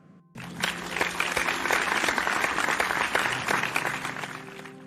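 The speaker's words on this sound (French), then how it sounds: "Oui, applaudissez pour vous-même" Sustained applause from a church audience bursts in after a brief quiet start and holds steady and loud, with a few voices and cheers mixed into the dense clapping.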